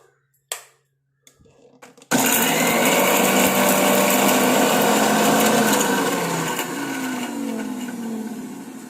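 After a few faint knocks, a kitchen mixer grinder roars on and grinds henna leaves with water into a paste, a loud, continuous whirring that softens slightly toward the end.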